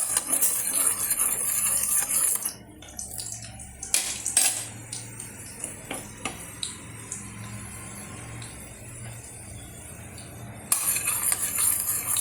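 Spinach soup thickened with rice flour being stirred in a pot: a spoon scrapes and clinks against the metal in repeated close strokes, with a soft bubbling simmer underneath and a louder hissing burst at the start and end.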